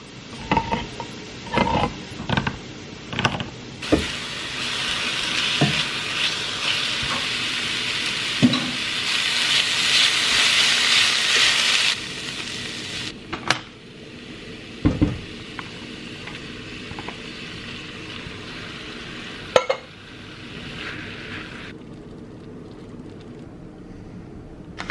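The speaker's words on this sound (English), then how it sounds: "So I'm gonna cook everything up now. I need to cook the ground beef." Ground beef fries in a pan with a steady sizzle that swells loudest midway, broken by scraping stirs and sharp clinks of utensil on pan.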